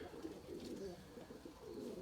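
Domestic pigeons, Erzurum white breeding birds, coo softly in a loft, with low, rolling, overlapping calls that run continuously and sound fairly faint and close, with no talking.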